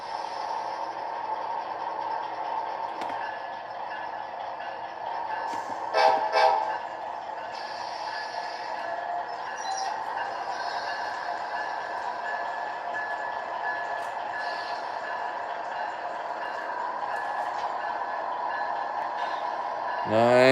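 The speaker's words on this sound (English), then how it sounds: "let's move the Amtrak out first" A model Amtrak train rolls steadily along a layout track with a continuous low mechanical hum and rumble, one brief whistle-like burst partway through, and no clear talking over it.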